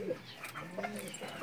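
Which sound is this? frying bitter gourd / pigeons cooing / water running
pigeons cooing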